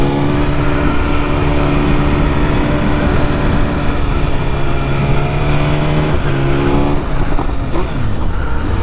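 A 2022 BMW S 1000 RR sport motorcycle with a stainless steel exhaust roars loudly and continuously nearby, its pitch shifting as it revs up and down, with busy traffic noise around it.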